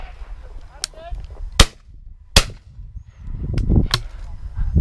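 Shotgun blasts during walked-up partridge shooting with spaniels, three or four sharp outdoor reports spaced across the clip, with rustling and movement in between.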